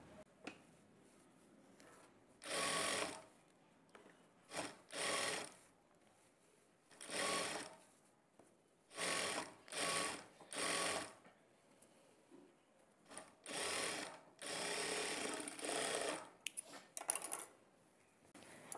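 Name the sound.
sewing machine stitching blouse lining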